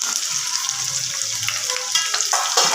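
Chopped okra pieces frying in hot oil in a wok, a steady close crackling sizzle with faint stirring scrapes, no voices.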